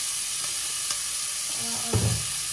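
Chicken liver sautés in a pan, giving a soft steady sizzle with faint stirring scrapes, then a louder burst of frying near the end.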